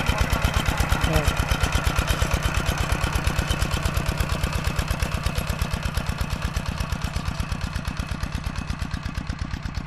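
A walk-behind tractor engine chugs steadily up close while ploughing a rice paddy, with a fast, regular knocking rhythm that continues throughout, loud and unbroken.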